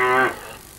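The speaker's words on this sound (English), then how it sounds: "our special guest, Daisy the Cow" A cow on a BBC television broadcast gives a brief tonal moo, loud at first and fading away within a third of a second into faint background noise.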